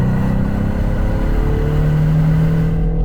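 A 2024 Ford Mustang EcoBoost with its four-cylinder engine and stock exhaust accelerating on a winding road, a steady, loud engine drone rising slightly in pitch throughout, with no talking.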